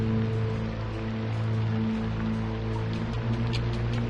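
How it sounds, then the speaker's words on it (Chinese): Steady rain falls continuously, a dense hiss with scattered drops pattering on a surface, under a low constant hum. "下雨了"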